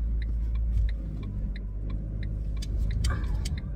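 A car drives along with a steady low rumble heard from inside the cabin, accompanied by faint rhythmic ticking.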